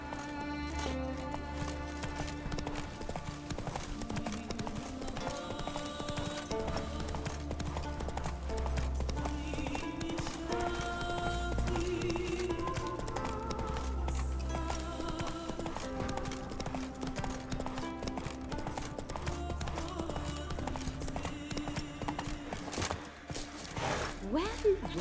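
Roach the horse gallops in The Witcher 3, with rapid rhythmic hoofbeats and an occasional whinny running under orchestral game music and speech.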